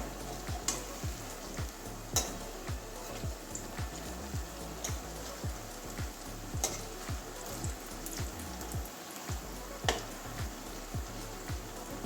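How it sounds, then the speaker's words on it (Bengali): Potato kofta balls fry in hot oil with a continuous soft sizzle, and sharp ticks and pops from stirring and turning are scattered through it. The frying is close and fairly quiet, and no one speaks. "এভাবে ভেজে নেবো উল্টে দেবো সব কটা"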